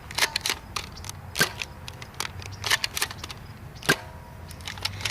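A Buzz Bee Ultra Tek Wizard blaster fires foam darts, a series of sharp snapping clicks and thumps at irregular intervals, fairly quiet and close, with faint handling noise between shots.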